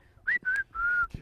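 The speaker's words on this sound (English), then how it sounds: "they've got a really catchy tune that you just whistled" A person whistles a short catchy tune at a Harlem Globetrotters basketball outing: three clear sustained whistled notes in a quick rising-then-level phrase, close and alone.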